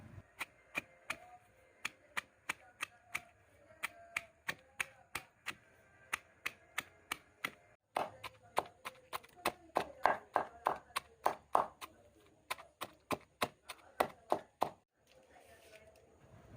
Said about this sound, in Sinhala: ඊළඟට කපාගත්ත ලුණු ගෙඩි භාග එකතු කරගෙන හොඳින් කොටා ගන්න